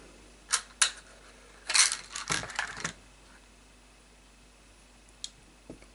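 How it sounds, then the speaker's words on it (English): Screws being backed out of a Sega Mega Drive/Genesis II console case with a screwdriver during restoration: a few sharp, close clicks and scrapes in short bursts, then quiet with a couple of faint ticks. "Then you get your screwdriver, the trusty box, and we want those 3 screws out of there."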